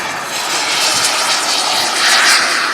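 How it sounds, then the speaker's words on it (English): A turbine-powered model aircraft at a California jet event gives a loud, continuous whining roar that swells slightly as it passes close by. "Fitted with turbine engine."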